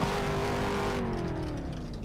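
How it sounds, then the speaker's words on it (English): Seven V8 race cars at a short-track oval rev their engines before a race, a loud, sustained roar that droops slightly as one engine's pitch falls. "we have 7 cars, V8s roaring their engines in preparations for the race"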